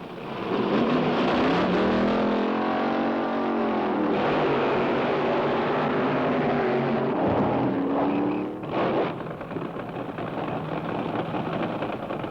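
Dragsters at a drag strip, a loud sustained engine roar rising in pitch as they accelerate hard, with a brief sharp burst near the end and the noise continuing without talk.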